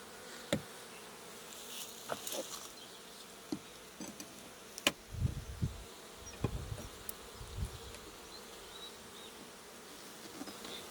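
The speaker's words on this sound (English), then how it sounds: "Those are the wild bees, really." Honey bees buzzing around an open hive during an inspection, a steady low hum with scattered louder passes of individual bees close by, plus occasional handling knocks.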